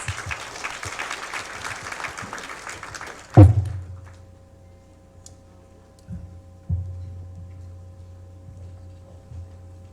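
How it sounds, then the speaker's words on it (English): Dense applause from an audience fills the first few seconds, then cuts off abruptly, leaving a quiet room with a low hum and occasional thumps. "Let's give him a round of applause, please."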